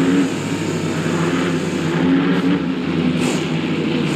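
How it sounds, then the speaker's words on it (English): Monster truck engine in BeamNG Drive, a loud continuous droning rumble held steady throughout, alone with no talking. "We're looking for a zombie monster truck."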